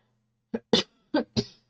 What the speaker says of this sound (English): dry cough again